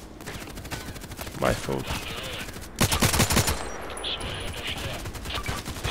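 Gunfire in the Contract Wars shooter game, rapid bursts of automatic shots cracking close by, with a heavy volley in the middle, while someone speaks briefly over the action.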